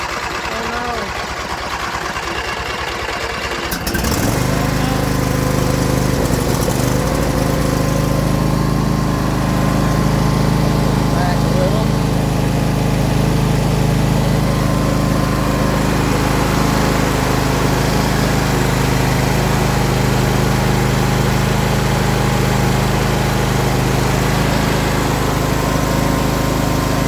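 A riding lawnmower on E15 fuel sits quiet, then its engine cranks and catches about four seconds in and runs steadily, loud and close, for the rest of the time.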